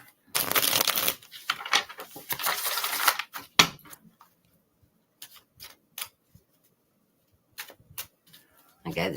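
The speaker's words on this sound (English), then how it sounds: "give it a good shuffle" A deck of reading cards gets shuffled up close in two long riffling bursts, then scattered soft taps and card slaps with quiet pauses between, ending in one more brief shuffle.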